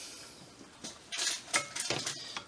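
Sourdough pancake batter being mixed in a bowl, with spoon and utensil clinks and scraping at a bowl, coming in a few uneven bursts that are close and fairly quiet, without any talking.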